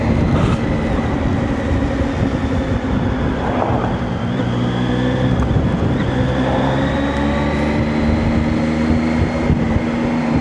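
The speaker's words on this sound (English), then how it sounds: "I like the sound. I really like the triple note." A Zontes 703F three-cylinder motorcycle engine hums steadily at cruising speed with heavy wind rush, loud and continuous, no talking.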